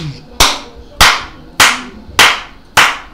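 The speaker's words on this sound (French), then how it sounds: "On va applaudir." A church congregation at a Sunday service in Treichville claps in unison, five sharp, loud, evenly spaced claps with short gaps between them.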